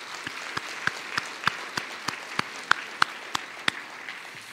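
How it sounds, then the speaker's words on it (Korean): Steady, evenly spaced clapping from a church congregation during a service, about a dozen sharp claps in a regular rhythm, fairly quiet and without any talking. "우리 모두에게 하나님께 영광의 박수를 드리도록 하겠습니다"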